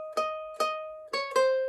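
Four clear plucked ukulele notes, evenly spaced then the last two closer together, pick out part of God Save Our Queen on the top string, each ringing and fading cleanly with no voices.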